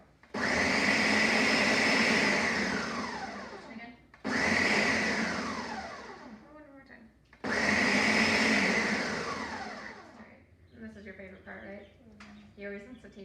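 A kitchen blender pulses fajita sauce in three loud, roaring bursts of a few seconds each, each one cut off sharply and separated by brief pauses, followed by quieter clatter.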